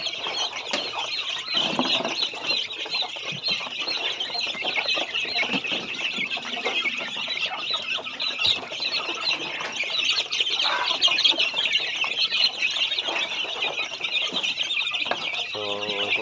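Hens and newly hatched chicks clucking and peeping continuously at close range, high chirps layered over soft clucks, with a person talking at times.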